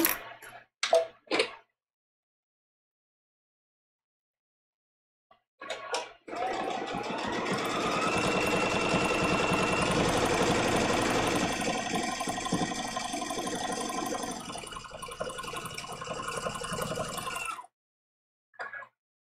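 A quilting sewing machine stitching a seam on a quilt-as-you-go placemat, with a few brief clicks first and then a steady whirring, ticking run of stitching for about eleven seconds, close and alone before a final short tap.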